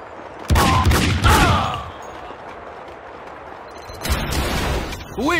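Gunfire in the Max Payne 2 video game, shots fired at Vlad: two loud close bursts of shots early on, then a quieter stretch and another burst toward the end, with a rising whine at the finish.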